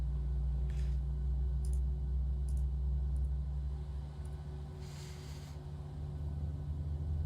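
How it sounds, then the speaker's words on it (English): Flaps moving on a PMDG 737 in a flight simulator game, heard as a steady low hydraulic hum and drone with a few faint clicks, the tone shifting partway through. "Can hear the flaps."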